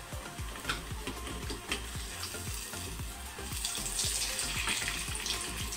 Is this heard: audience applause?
no